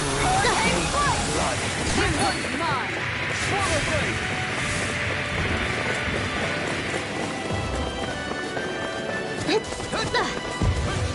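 Arctic Waterfall water arte unleashed in the action game Tales of Arise: a loud, continuous rush of crashing water with icy cracks and impacts, mixed with busy battle noise and shouted voices throughout.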